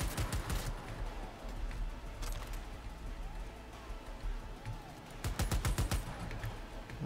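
An MA70 HB light machine gun fires in Cyberpunk 2077, with loud rapid bursts at the start and again near the end and softer game noise between them.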